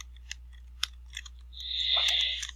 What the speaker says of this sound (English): A little bubble type sound is a new addition as well.